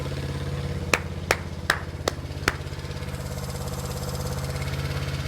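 A 54-year-old 1970s Honda CB350 motorcycle idling steadily after a fresh start, an even low throb with a few sharp clicks or taps early on before settling into a smooth continuous idle.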